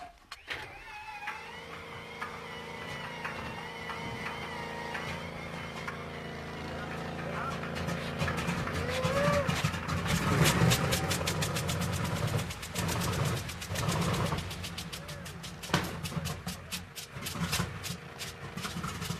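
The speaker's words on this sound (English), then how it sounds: "Now it's time to start an engine." Engine of a B-29 bomber being cranked during a start attempt, a whirring, clicking mechanical grind that builds into irregular knocking and sputtering pulses, with voices talking over it.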